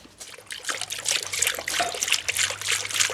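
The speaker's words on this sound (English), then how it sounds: "Try and pour it in slowly if you can." Coolant pours and trickles steadily into a Holden VX Calais cooling system with a gurgling, splashing quality, continuing throughout without any talking.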